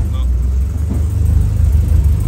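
A repaired Volkswagen Beetle drives along, its engine a steady loud low rumble from inside the car, with a voice talking faintly over it.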